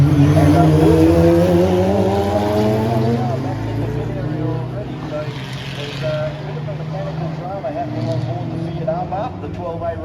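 A Mazda RX3 race car with a 12A rotary engine, leading on a street circuit, roars loud and close with a buzzy rotary note, the engine pitch rising and falling through gear changes over several seconds, with a commentator talking over it.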